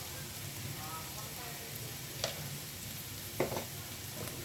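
Chicken spring roll filling seasoned with garam masala sizzles softly in a pan as it is stirred, with a constant low frying hiss broken by a few quick scraping clicks of the spoon.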